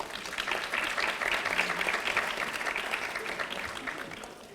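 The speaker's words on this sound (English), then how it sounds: "Please give yourself a round of applause." Delegates at a Model United Nations closing ceremony applaud themselves, a dense, steady round of clapping that holds for several seconds and tapers slightly at the end, with faint murmurs underneath.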